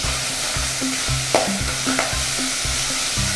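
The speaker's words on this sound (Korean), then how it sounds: "냄비에 참기름을 낭낭이 두르고 잘게 다진 미역을 볶아줍니다." Chopped seaweed stir-frying in sesame oil in a pot, a steady sizzle with rhythmic scraping stirs of a utensil recurring every half second or so, close and without talk.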